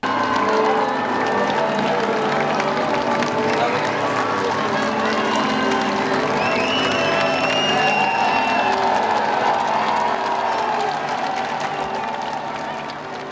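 Regensburg crowd cheering for Pope Benedict XVI as his popemobile passes during his 2006 Bavaria visit, a loud, continuous roar of jubilant voices, applause and whistles close by, easing slightly at the end.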